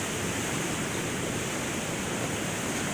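Steady, dense outdoor roar of heavy rain mixed with rushing floodwater from a swollen little creek during a local flood, loud and unbroken throughout with no voices.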